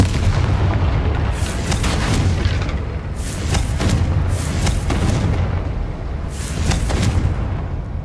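The Confringo fire spell blasts in Hogwarts Legacy, giving several deep booming bursts over a continuous roar of game sound.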